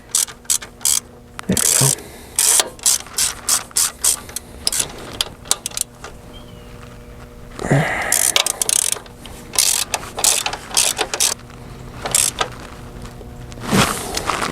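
A hand ratchet tightens a bolt on a 2003 GMC 2500HD truck, giving bursts of rapid clicking pawl strokes with short pauses between them. The clicking is close and moderately loud, and someone briefly speaks partway through.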